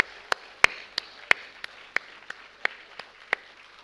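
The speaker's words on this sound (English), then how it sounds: "let's give them a huge round of applause" Scattered single hand claps at a school assembly, about a dozen sharp, spaced slaps in an uneven rhythm over a quiet hall.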